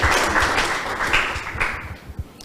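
A school debate audience applauds both competing teams, a fairly steady, moderately loud burst of clapping that thins and tapers toward the end.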